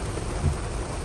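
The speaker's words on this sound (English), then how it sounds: "It's pouring rain. It hasn't let up." Heavy rain pours down across an old cemetery, a dense, steady hiss of drops with a brief low rumble partway through. No talk.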